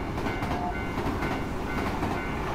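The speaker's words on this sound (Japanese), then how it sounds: "この電車は死者たちを乗せて" A train in the horror video game Tsugunohi, a carriage carrying the dead, rumbles steadily and loudly throughout with a continuous rolling drone and faint rattling, and no voices over it.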